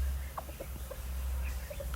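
Soft, short clucks from a young hybrid junglefowl cockerel repeat irregularly over a low steady hum, fairly close.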